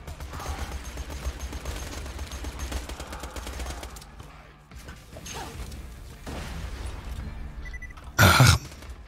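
Bursts of rapid gunfire in Borderlands 2 with crashes and booms, easing to a quieter pause, then a sharp loud blast near the end.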